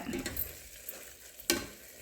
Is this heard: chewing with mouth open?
no